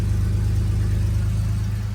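A supercharged 3800 V6 swapped into a Chevy S10 runs through its new exhaust on a cold day. It gives a loud, close, steady droning rumble with little change in pitch.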